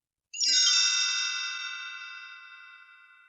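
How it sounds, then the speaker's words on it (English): A single bright chime rings out clearly, struck once and left to shimmer and fade slowly, alone in silence. "You will know it is time to turn the page when you hear the chimes ring like this."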